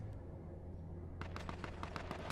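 Several quick gunfire shots rain down in a competitive video game match, arriving as faint, sharp bursts in the second half after a quiet stretch.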